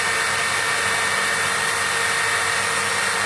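A power buffing wheel polishes a workpiece with whale wax, giving a steady, loud, continuous high whirring hiss with no pauses from start to finish.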